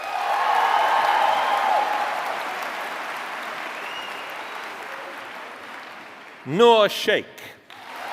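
Sustained audience applause at a university graduation ceremony, a dense wash of many clapping hands that slowly fades, followed by a brief spoken name.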